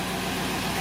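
A Chevrolet K1500 pickup's engine idles steadily at a normal speed, a low, even rumble that holds constant and close with no voices.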